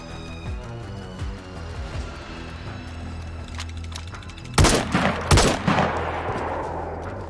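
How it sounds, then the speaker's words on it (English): AK rifle fire in the video game DayZ, set in a maze: two loud, sharp bursts of gunshots ring out near the end with echoing tails, after softer scattered thumps earlier on. "The shots I had used to kill the Minotaur and now the skeletons had alerted everything in this maze to where I was."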